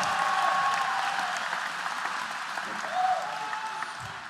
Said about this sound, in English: a round of applause for both of these amazing athletes